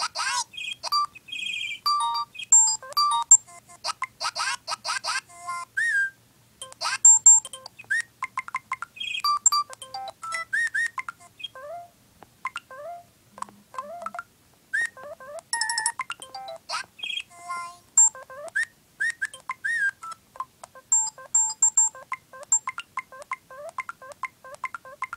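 LINE messaging app notification chimes and pings are sequenced into a rhythmic tune, bright, clean electronic tones tumbling in quick bursts with short silent gaps between phrases.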